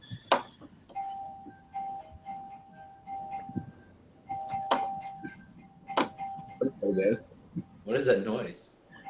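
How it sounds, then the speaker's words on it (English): Several short doorbell chimes ring out in a home during an online group meeting, sounding clearly over intermittent conversation, with a brief glassy clink near the end. "Yeah, that's my doorbell."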